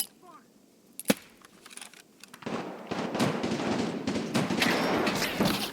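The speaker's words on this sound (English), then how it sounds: "The shots we're hearing are PMCs" Gunfire from PMC players in Escape from Tarkov on the Factory map: one sharp crack early, then a dense, continuous rattle of distant shots and echoing industrial ambience for several seconds, with no talk.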